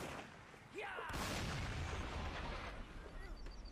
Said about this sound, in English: The cannon fire over the top of the earthworks.